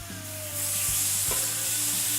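Meat sizzles loudly in a hot pan, a bright steady hiss with occasional clunks and scrapes of stirring.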